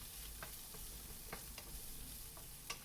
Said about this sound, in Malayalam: നന്നായിട്ട് വഴറ്റി കൊടുക്കണം